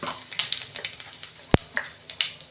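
Dried red chilli and a pinch of whole cumin hit hot oil in the pan for a vegetarian dhokar dalna. They give off sparse, close crackles and light pops, with one sharp snap in the middle.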